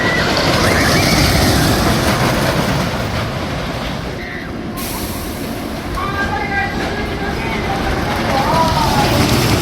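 Riding the Blue Streak roller coaster at Cedar Point: a loud, continuous rumbling roar of the train running along the track, mixed with rushing wind, close and sustained throughout, with faint voices now and then.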